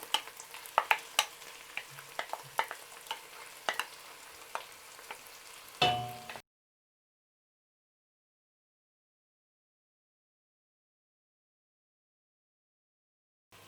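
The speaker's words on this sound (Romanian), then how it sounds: "Adăugăm bulionul." Tomato sauce goes into a pot of bean stew with smoked meat, bringing close scraping stirs and clicks over a soft sizzle for about six seconds, then silence.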